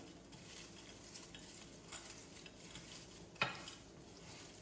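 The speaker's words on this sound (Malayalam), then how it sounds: "ഹാൻഡോട് നമ്മളൊന്ന് മിക്സ് ചെയ്യണം" French fries are tossed with seasoning by hand in a bowl, giving soft, faint rustling and shuffling with a few light clinks and no talking.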